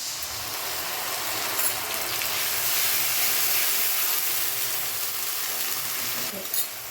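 Ground spice paste frying in a pan with onions browned red for crab curry, a steady close sizzle and hiss with occasional soft stirring scrapes.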